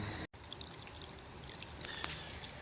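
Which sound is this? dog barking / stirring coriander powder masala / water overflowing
water overflowing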